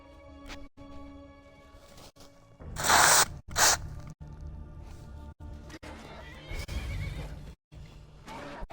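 A horse in the video game Skyrim whinnies loudly in two sharp bursts, with hoof clatter and other game sounds around it.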